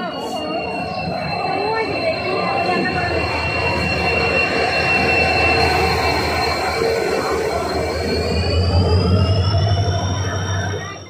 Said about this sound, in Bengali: বন্ধুগণ ট্রেনও আই গেল।